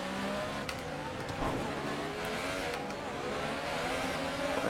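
Race cars in a racing video game rev and brake, engine tones rising and falling continuously at moderate volume with a faint tire screech, no talking over it.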